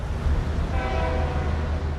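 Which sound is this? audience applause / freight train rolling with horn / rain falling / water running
freight train rolling with horn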